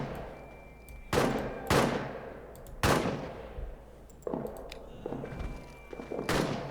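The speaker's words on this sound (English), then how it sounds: "Artillery's helping out now." Artillery fire in a WWI trench video game: a series of heavy booming impacts, about six, spaced unevenly a second or so apart, each with a long decaying rumble over faint background noise.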